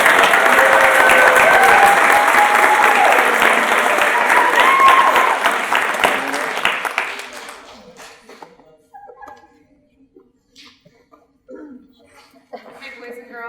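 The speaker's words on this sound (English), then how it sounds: "Let's give them a big round of applause for that." Families at a 2021 kindergarten graduation give the graduates a loud round of applause with a few whistles. After about seven seconds the clapping fades to scattered taps and faint murmurs.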